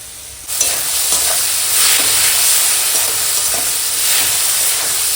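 Chopped tomato and spices fry in a hot pan until the tomato breaks down, giving a loud, continuous sizzle and hiss with occasional stirring scrapes, with no talking.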